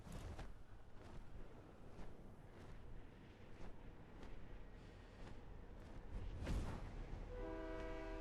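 A train horn in a video game sounds near the end, a sustained tone over steady rumbling ambient noise.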